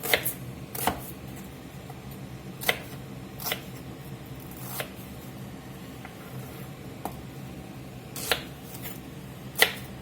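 A knife cuts an onion into quarters for beef stew, giving a handful of sharp, separate chops against a board, spaced irregularly over a quiet kitchen background.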